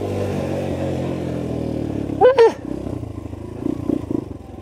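Fratelli Xe 125 motorcycle ridden on a dirt trail, engine droning steadily up close with a brief sharp rising whine midway and uneven throttle pulses afterward.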